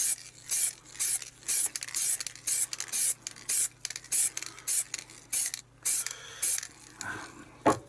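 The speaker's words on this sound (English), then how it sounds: "shake the can as much as you possibly can be bothered to, and then light sprays" Short bursts of spray paint hissing from an aerosol can in a steady rhythm, about a dozen quick light sprays in a row, close by.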